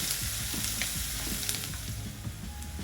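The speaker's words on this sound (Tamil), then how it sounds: "வெங்காயம் ஒரு 2 நிமிஷம் நல்லா வதங்கட்டும்" Sliced onion and chopped green chili fry in a pan with a continuous close, crackling sizzle. Occasional stirring knocks come through with no voices.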